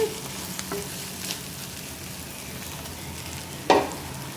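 Tomato and dried shrimp curry simmers and fries gently in oil in a pan over low flame, a faint steady sizzle with a few soft stirring scrapes and one louder clank near the end.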